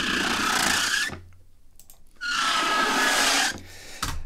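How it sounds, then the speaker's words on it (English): Foley tyre screeches made by rubbing a hot water bottle, two long squealing passes of about a second each, loud and close, with a brief squeak between them and no talk. "I've got a whole load of tire screech recordings"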